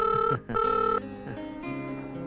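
A telephone rings in two steady electronic bursts, then falls to a lower, quieter tone. It is loud and close.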